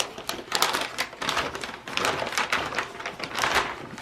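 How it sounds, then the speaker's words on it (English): Fablon sticky-back plastic peeled off its backing on a shoe box, a close crackling, tearing rustle in uneven pulses lasting several seconds. "I'm going to peel the Fablon"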